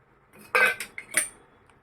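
A spoon clinks and scrapes against a pot as horse gram soup is stirred quickly, a few sharp close metallic knocks in brief succession, then quiet.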